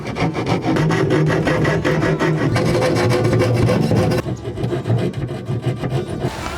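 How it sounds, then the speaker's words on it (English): A stiff Leatherman Signal saw blade cuts into a wooden joint for a camper interior build, giving a loud, close, rhythmic rasp of back-and-forth strokes that stops near the end, leaving a quieter scrape. "the best tool to finish this off is just my Leatherman Signal it's quite a stiff sort of saw blade"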